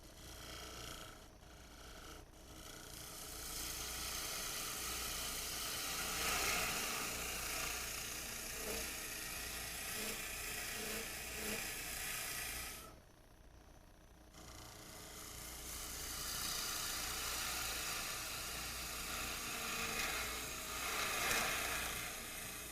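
A wood lathe spins a natural-edge goblet while a gouge takes heavy cuts, a steady close hiss and hum with a brief pause partway through before cutting resumes.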